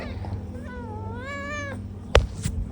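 A cat lets out one drawn-out, wavering meow close by that lasts about a second. A sharp thump follows soon after, and a low hum runs underneath throughout.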